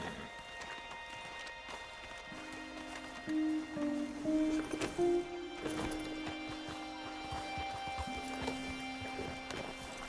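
Horses trotting in the open-world western game Red Dead Redemption 2, a steady clip-clop of hooves running under sustained tonal music, with a brief louder swell midway and no speech.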